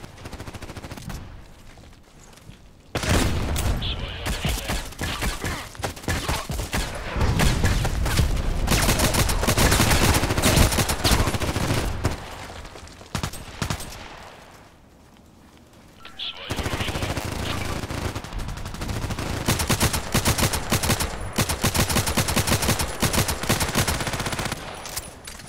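Rapid automatic gunfire from the online shooter Contract Wars, sustained bursts filling most of the stretch with a short lull in the middle, loud and close.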